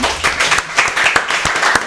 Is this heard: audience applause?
yes